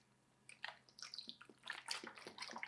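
Beef broth poured from a container into a slow cooker for a stew, a close liquid splashing and trickling that grows steadily louder over a few seconds, with no voices.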